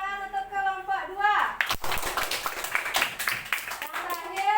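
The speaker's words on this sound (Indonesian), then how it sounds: "Kasih tepuk tangan untuk kelompok 2." Classroom students clap for a group after its presentation, a burst of dense, close handclaps rising suddenly and running on, with a voice talking over the start and end.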